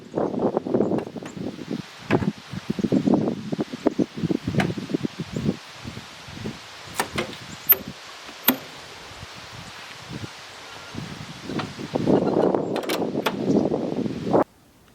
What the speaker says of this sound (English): it's gotten kind of nasty this afternoon, real windy and cloudy at Melissa's work, which is a half-hour away